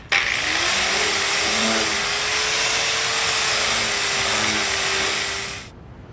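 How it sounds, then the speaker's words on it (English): A power tool whines up to speed and holds a steady, high motor drone while sanding a carved wooden war club, then spins down and stops near the end. "it's going to be time to sand these out"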